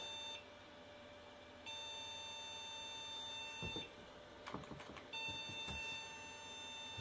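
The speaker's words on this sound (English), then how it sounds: "too many beeps" A mini Pentium PC beeps at startup with long, steady electronic tones that stop and restart, followed by several short sharp clicks and taps from handling nearby.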